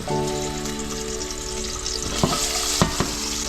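Potato frying in a fish pan over an outdoor cooking setup, a steady close sizzle with a few sharp clinks and stirring scrapes near the end, and no talking.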